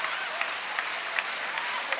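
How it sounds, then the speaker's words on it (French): A standing stadium crowd at the Pontaise in Lausanne applauds the Swiss women's 4x100m relay team at a Diamond League athletics meeting, with steady dense clapping throughout and a commentator's voice faintly underneath. "Et la Pontaise debout pour applaudir cette équipe de Suisse."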